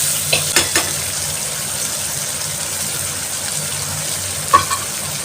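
Potatoes frying in a pan as water used to rinse spices is poured in, a steady low sizzle running throughout with a few brief clinks early and one sharper tap near the end, no talking.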